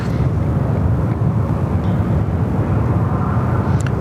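An airplane at Sydney Airport joins final for runway 34 left, a steady low broadband engine roar held evenly throughout.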